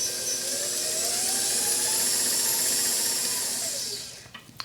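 A stand mixer paddle mixing gluten-free cheese and garlic bagel dough, a steady close motor whine with a gliding pitch and rhythmic mechanical churning, stopping near the end.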